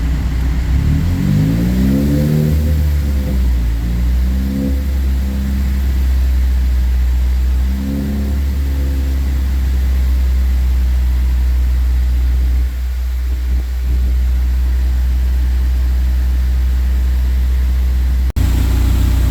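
A Ford Focus ST EcoBoost engine revved repeatedly while warming up during a fluid flush, loud close rises and falls in pitch over a steady idle drone, then settling into an even hum.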